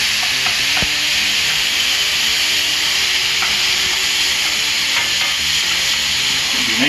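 Ground beef browning in a hot pan for chili, a loud, close, continuous sizzle with occasional stirring scrapes and small pops throughout, no voices.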